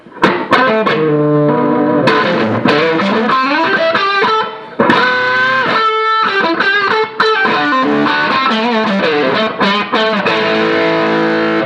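Electric guitar, played through an Amptweaker Fat Rock distortion pedal, rings out in loud overdriven riffs and sustained chords with a thick crunchy tone and short pauses between phrases.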